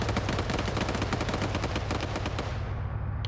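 Vehicle-mounted machine gun in a video game fires a rapid sustained burst, loud and close, with evenly spaced rounds that cut off near the end.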